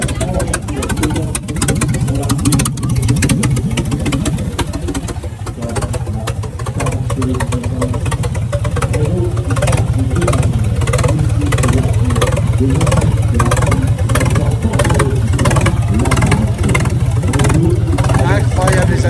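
A vintage Renault race car's engine drones and revs on the Montlhéry circuit, a loud, continuous mechanical rumble that stays close, with someone talking over it.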